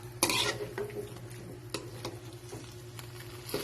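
Chop suey vegetables, including snow peas, stirred in a pan with a spatula, producing repeated scraping and clattering strokes over a low steady sizzle, close and moderately loud, with no talking.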